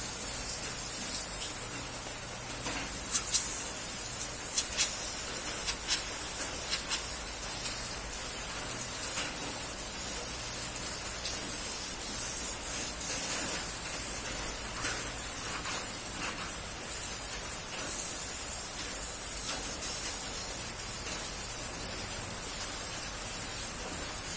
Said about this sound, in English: This is a cheap Taiwanese airbrush.